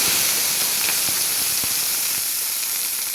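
Black cumin seeds sizzling in hot oil in a home kitchen make a steady, close, broadband hiss with a few faint crackles, continuous for about three seconds.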